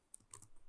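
A few light computer keyboard keystrokes, faint and brief, with soft clicks spaced irregularly over a quiet background.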